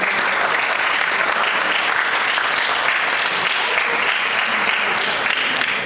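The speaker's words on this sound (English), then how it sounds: "Can everybody just give Darius Minter a round of applause?" An audience at a youth speaking event gives Darius Minter a round of applause: dense, sustained clapping from a crowd, loud and steady throughout without letting up.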